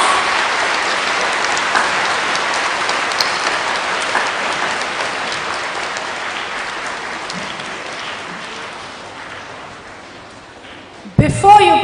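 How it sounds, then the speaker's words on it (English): A school ceremony audience gives a long round of applause welcoming an honored guest, steady dense clapping across a large hall that gradually fades over about eleven seconds before a voice begins. "Let's welcome our honored guest with a round loud of"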